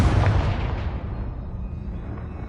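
Confringo explosive spell blast in the video game Hogwarts Legacy, a heavy, deep boom that starts loud and decays into a rumbling tail over a couple of seconds.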